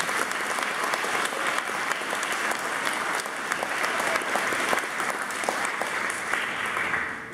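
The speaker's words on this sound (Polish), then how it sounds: "też należą się oklaski" A church congregation in St. Anthony's church in Nowa Sól applauding after a liturgy, a steady, full burst of many hands clapping in a reverberant hall, continuing for several seconds with little talk.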